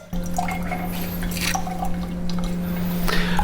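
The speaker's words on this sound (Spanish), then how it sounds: "lo que está cayendo aquí son gotas de agua" Water drops falling through a small piece of paper napkin in a circuit-repair class demonstration, dripping steadily at close range over a constant low electrical hum, with soft irregular splashes and no talk.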